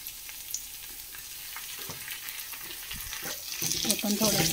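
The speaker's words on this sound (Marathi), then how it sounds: "तर या भाज्या थोड्याशा फ्राय झाल्या की यामध्ये आपल्याला 1 चम्मच अद्रक लसूण पेस्ट टाकायची आहे।" Vegetables frying in a pan with ginger garlic paste for veg Hakka noodles, a steady close sizzle that grows louder and busier toward the end, with occasional stirring clatter and no talk.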